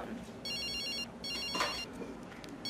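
A telephone rings in two electronic bursts inside a short film, each trill lasting under a second, heard moderately loud over a background hum.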